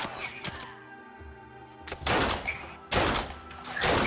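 Gunfire in the online game Fallen Earth: a few sharp, separate shots ringing out amid quieter background game sounds, with loud bursts toward the end spaced about a second apart.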